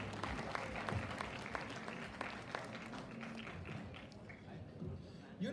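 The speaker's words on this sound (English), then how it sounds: "Can we please have a huge round of applause for Rehan Badr and Syed Irtiza?" An audience at a school graduation ceremony claps continuously in a dense, steady wash of applause that fades slightly toward the end, heard from within the crowd with no speech over it.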